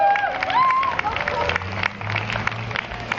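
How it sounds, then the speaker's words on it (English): Crowd applause at an outdoor township tree lighting in Avenel in late November, a steady wash of clapping and murmur with some cheering, close and fairly loud. "Round of applause"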